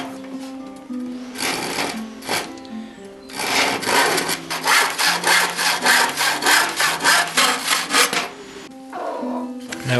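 Hand saw making a square cut through untreated pallet wood plank, a steady run of rhythmic back-and-forth rasping strokes up close, with a few slower starting strokes and pauses, no talk over it.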